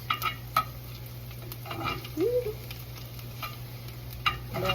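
Garlic sizzles gently in oil in a cast iron pan, a steady soft frying hiss with a few light stirring clinks, close and alone.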